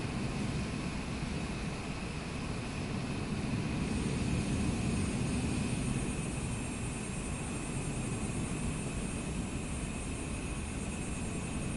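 Cessna light aircraft taxiing in Microsoft Flight Simulator 2024, a steady propeller engine drone with a constant hum and hiss, holding an even level throughout with no talk.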